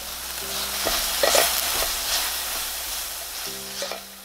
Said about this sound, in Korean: 사과도 익는 중간중간 저어주고